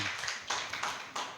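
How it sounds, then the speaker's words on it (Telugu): Audience at a church Bible training graduation clapping, several quick bursts of hand claps close by, fairly soft and uneven without talk. "చప్పట్లు కొట్టండి ఒకసారి"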